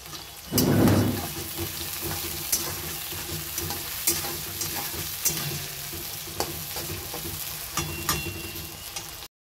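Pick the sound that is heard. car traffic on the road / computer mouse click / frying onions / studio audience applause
frying onions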